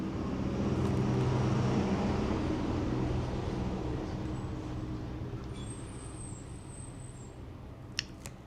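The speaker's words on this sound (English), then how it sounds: "now that noisy truck's gone by" A noisy truck rolls past nearby, its low rumbling roar loudest early and fading steadily as it moves away, with a brief click near the end and no talk.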